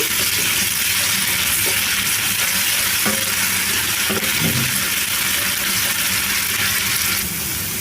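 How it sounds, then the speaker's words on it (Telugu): Ginger-garlic paste frying with onions in a pan for a bitter gourd and tomato curry: a loud, dense, continuous sizzle with faint stirring scrapes, close up and with no one talking. "అల్లం వెల్లుల్లి పేస్ట్ వేసుకున్న తర్వాత ఒక రెండు నిమిషాలు ఫ్రై చేసుకోవాలి"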